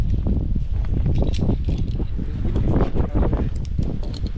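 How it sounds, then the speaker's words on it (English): Strong wind from a severe storm buffets the microphone on a chateau roof in a constant loud roar, gusting unevenly throughout with no one speaking. "It is windy."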